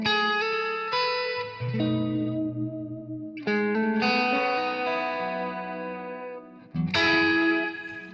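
Electric guitar through a Blues Driver overdrive pedal with the guitar's volume knob backed off, played in three ringing phrases of chords and single notes with a slightly gritty, cleaned-up tone and a touch of echo, no talking.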